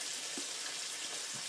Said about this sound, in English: you can probably hear that sizzling